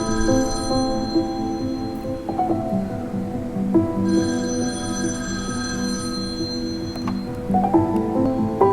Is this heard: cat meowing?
no